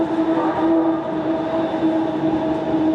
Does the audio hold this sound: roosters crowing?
no